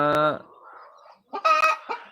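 Brahma chickens on a farm cluck loudly up close: a sharp squawk, a short lull, then a quick burst of raspy clucks.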